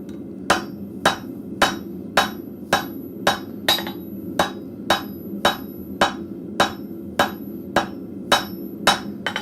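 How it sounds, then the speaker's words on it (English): A rounding hammer strikes hot steel on an anvil in a blacksmith shop, about twenty sharp metallic blows in a steady, even rhythm, close and loud over a low background hum. "I wish I might have had a smaller rounding hammer, just to get this final worked in"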